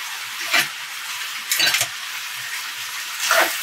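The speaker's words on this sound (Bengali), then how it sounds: "আমি আলুটা ভেজে নিচ্ছি" Potatoes frying in hot oil give a steady faint sizzle, broken by three louder bursts of sizzling as they are stirred in the pan.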